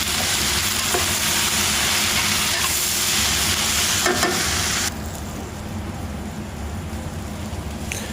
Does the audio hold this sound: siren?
no